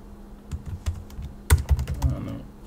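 A short burst of typing on a computer keyboard at a Linux terminal: sharp, close clicks of separate keystrokes with a brief pause, then a quicker cluster of taps.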